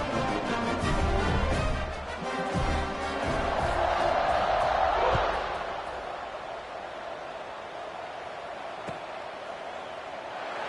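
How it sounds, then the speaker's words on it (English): A big stadium crowd at a Georgia vs LSU college football game roars and cheers ahead of a kickoff, a dense, loud wash of voices that swells and then eases to a steadier murmur. "this crowd now ready to get behind them"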